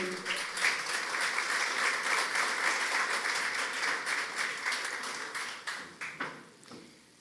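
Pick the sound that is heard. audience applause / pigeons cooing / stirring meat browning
audience applause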